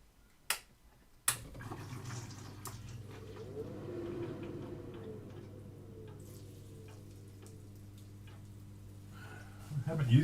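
A waterfall-type spray booth for painting scale models starts up after two sharp clicks, settling into a steady hum with a soft watery rush that continues close by.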